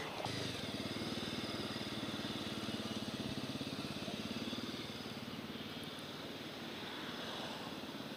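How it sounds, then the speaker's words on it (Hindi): A motorcycle starts up and keeps running, its engine holding a steady, close, rumbling drone for several seconds with no talking. "किस तरीके से ये अपना बाइक स्टार्ट कर रहे हैं"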